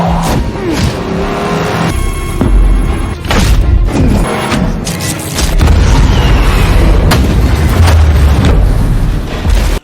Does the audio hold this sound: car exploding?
yes